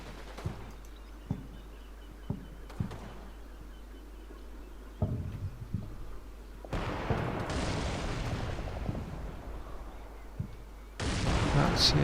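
Artillery barrage landing in Combat Mission: dull distant booms arrive at irregular intervals, then a sustained rumbling roar of impacts swells in, with brief talk in between.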